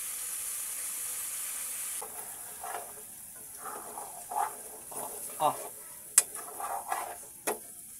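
Eel simmers in boiling coconut milk with a soft, steady bubbling hiss, broken by intermittent scraping and clinking strokes as the pot is stirred.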